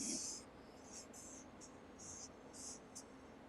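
A marker drawing a flower on paper makes a series of short, soft squeaky strokes, close and faint, in quiet surroundings.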